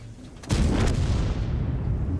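A tank cannon fires in World of Tanks, one loud, close boom that lands abruptly and then rolls on as a long, heavy rumble with no voices over it.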